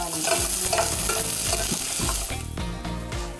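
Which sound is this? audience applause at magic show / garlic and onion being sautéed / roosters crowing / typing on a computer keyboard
garlic and onion being sautéed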